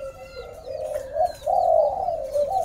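Breeding pairs of pigeons cooing nearby in their loft, with several soft rolling coos rising and falling in a continuous run, clear and close with no talk.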